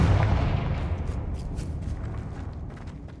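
Confringo fire spell blast from Hogwarts Legacy: a heavy, booming explosion that rumbles loudly at the start and slowly decays over a few seconds, with scattered crackling debris.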